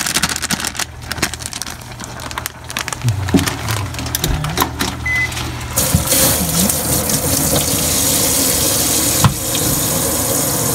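Hot water pours steadily into a cooking pot of winter melon with minced pork, starting in broken splashes and building to a continuous loud gush that runs to the end.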